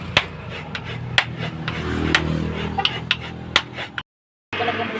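Hand-grating a whole coconut with a metal scraper, with repeated close, uneven scraping strokes and sharp knocks in a home kitchen, broken by a brief silence near the end.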